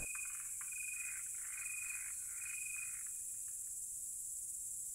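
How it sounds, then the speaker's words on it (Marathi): A Malabar gliding frog calls in a Western Ghats rainforest during the monsoon, giving a few faint, clipped repeated notes over a constant high insect drone. "आपल्या अधिवासात बेमालूमपणे मिसळून जाणारा हा बेडूक म्हणजे मलबार ग्लायडिंग फ्रॉग."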